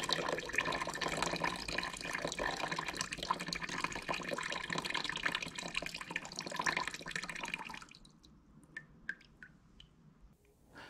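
Water streaming through a hole in a cup into a tub during a static electricity experiment, a steady close splashing trickle that stops near the end, leaving a few faint drips.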